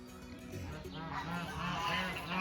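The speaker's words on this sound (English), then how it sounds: "Geese." Geese on a homestead honk loudly and nearby in a quick series of harsh, nasal calls that overlap toward the end, with faint background noise and no talking.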